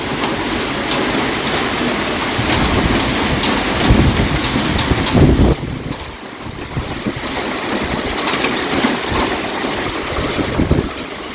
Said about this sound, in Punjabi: ਬਹੁਤ ਜ਼ਿਆਦਾ ਗੜੇ ਪੈ ਗਏ ਨੇ ਪੈ ਰਹੇ ਨੇ ਹਾਲੇ ਵੀ